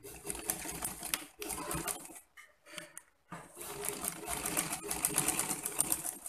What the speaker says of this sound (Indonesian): lalu kita jahit kira-kira setengah senti